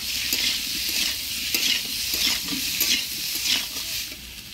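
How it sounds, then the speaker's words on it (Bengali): Small potatoes frying in oil with turmeric and salt, a constant close sizzle with repeated scraping stirs and light clinks of a utensil against the pot. "হলুদ লবণ দিয়ে আলুটা লাল করে ভেজে নিব"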